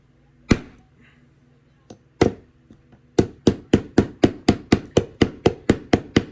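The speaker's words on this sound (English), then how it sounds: "see if I can hammer it in place" A few scattered metal knocks, then a fast, steady run of sharp hammer blows driving a part into a Ford flip key, loud and close, with no talking.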